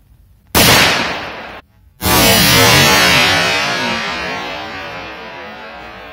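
Two loud, sharp bursts close by, the second followed by a long fizzing roar that slowly fades, as a Kometa Korsar 4 firecracker explodes on ice outdoors.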